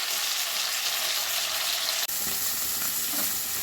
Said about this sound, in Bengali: গ্যাসের ফ্লেম মিডিয়ামে রেখে মাছগুলো আমি ভেজে নেব।